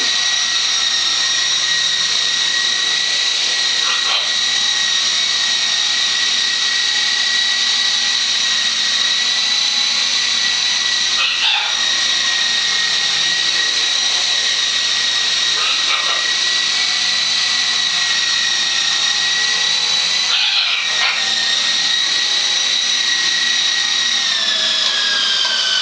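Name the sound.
model helicopter flying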